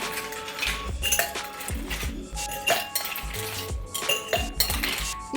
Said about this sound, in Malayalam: നമുക്കൊരു മൂന്ന് ഗ്ലാസ് എടുത്ത് വയ്ക്കാം കേട്ടോ അതിലേക്ക് കുറച്ച് ഐസ് ക്യൂബ് ഇട്ട് കൊടുക്കാം